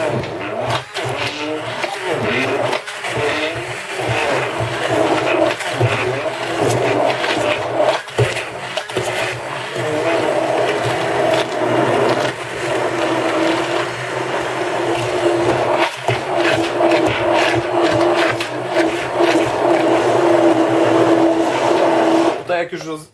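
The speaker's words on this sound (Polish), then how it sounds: "To jest dwie minutki blendowania." Hand blender whirring through cottage cheese in a bowl for a cheesecake, a loud continuous buzzing drone that shifts in pitch as the mixture is worked, with a voice talking over it.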